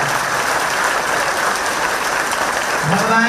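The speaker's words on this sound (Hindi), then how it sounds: "जोरदार ताली बजाएं" A devotional discourse audience applauds the volunteers at a Bageshwar Dham gathering in Chennai, a dense, steady wash of clapping from a large crowd that swells slightly toward the end.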